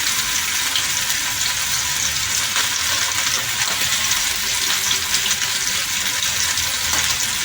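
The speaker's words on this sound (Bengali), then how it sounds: "দিয়ে আমি আলুগুলো একটু ভাজা ভাজা করব।" Salted potatoes fry in a pan, a bright continuous sizzle with crackling spatters that stays close and busy from start to finish.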